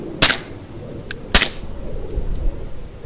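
Two suppressed shots from a Q ERECT9R pistol ring out at a range about a second apart, each a sharp, fairly muted crack with a short tail, followed by faint mechanical clicks.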